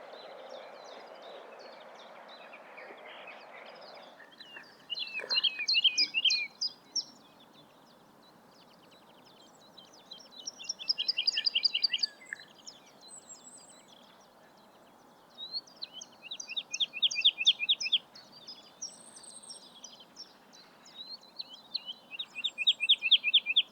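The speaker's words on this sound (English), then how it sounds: "The song of the woodlark is quite different to the skylark" Woodlark song on Greenham Common heath in bright sunshine: repeated liquid, descending trilled phrases in separate bursts, fairly distant, over a soft breezy background, with no talking.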